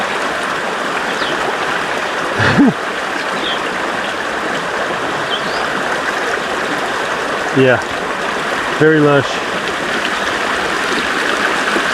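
Creek water rushes loudly and continuously on rural acreage along Dog Creek in California, a close, steady babble with someone speaking briefly over it a few times.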